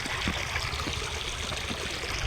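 Water flows along a road damaged by heavy rain, running lighter than usual on a low-rain day. A steady, close rushing trickle continues without a break, with no voices.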